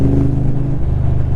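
AC Cobra replica (Dax Tojeiro) with a 5.7-litre V8 gives a steady, deep exhaust rumble while driving, loud and close, with a throbbing low pulse and no talk.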